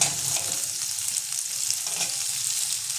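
Chopped onion frying in oil alongside lightly browned potatoes in a pan, a steady close hiss of sizzling with faint stirring scrapes throughout.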